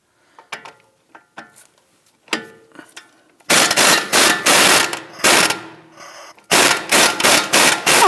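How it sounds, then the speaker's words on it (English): A wrench and 21mm socket work the knuckle-to-strut bolts on a 2001-2009 Volvo S60 rear suspension: a few sparse clicks and taps, then loud, close bursts of rapid ratcheting in repeated runs. "we're now going to go ahead and loosen and remove our knuckle to strut bolts"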